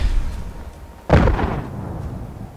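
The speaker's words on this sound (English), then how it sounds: "I hear the explosions already." A single deep explosion booms in Fallout 4, a sudden thump followed by a rumbling tail fading over a second, against low background noise.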